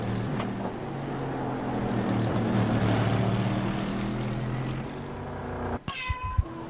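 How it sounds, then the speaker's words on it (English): A cat meows briefly near the end, a short rising call that follows several seconds of steady, droning engine noise from a motorsport racing simulator. "A happy cat."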